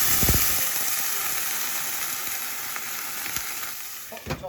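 Onions sizzling in a generous drizzle of hot olive oil in a pan while moules are being cooked, a steady close frying hiss with a few crackles and stirring clicks near the end.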